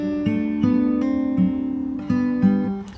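Plucked fingerstyle guitar notes from a song ring out in a steady fingerpicked pattern, bass notes overlapping with higher strings, played solo and close up.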